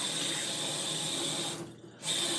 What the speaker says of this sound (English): And then I'm gonna rinse off my little fingers.